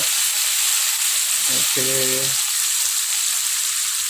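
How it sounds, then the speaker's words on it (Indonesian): Ground spice paste, blended smooth, sizzles and fries steadily in hot vegetable oil in a pan, a constant close hiss throughout. A brief spoken word cuts in near the middle. "Selanjutnya kita tumis bahan bumbu yang kita haluskan menggunakan blender tadi ya."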